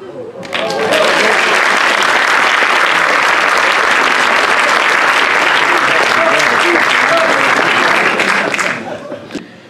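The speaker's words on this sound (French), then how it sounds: "les applaudissements viendront ensuite pour encourager" A studio audience at a radio quiz show in Stenay, Meuse, breaks into loud, sustained applause that swells quickly, holds dense and even for about eight seconds, then tapers off.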